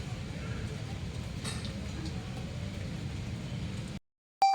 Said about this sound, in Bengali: সেরকম জোরে না হলেও ভালোই বৃষ্টি হচ্ছে